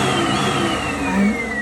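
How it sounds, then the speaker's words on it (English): A vacuum cleaner runs steadily for dryer vent cleaning, giving a continuous close motor whine and hum without pauses. "Okay, switch on your vacuum"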